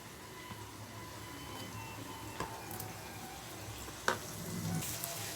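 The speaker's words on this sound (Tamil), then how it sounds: "நம்ம எண்ணெயில அப்படியே போட்டு பொரிச்சு எடுக்கலாம்" Bread pieces deep-frying in hot oil, a quiet, even sizzle with occasional soft pops and one sharper click, no voices.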